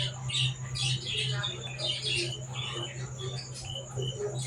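Chickens and young chicks at a small home farm give repeated sharp squawks and chirps close by, over a steady low hum with faint voices in the background.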